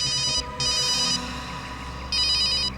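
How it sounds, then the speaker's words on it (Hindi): A mobile phone ringtone shrills in repeated electronic bursts with short gaps between them, loud and close, with no voices over it. "अभिजीत का फोन है।"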